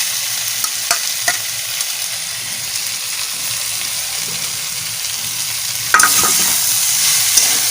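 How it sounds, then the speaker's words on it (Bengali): Figs fry with spice paste for a fig curry, giving a steady, close sizzle broken by light scrapes of stirring, with a louder, harsher spatter near the end. "মশলা কষানো প্রায় হয়ে গেছে, এখন আমি ওই ডুমুরগুলো দিয়ে আর একটু কষিয়ে নেব।"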